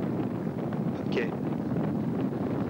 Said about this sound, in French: Patrice, vent un peu extrême.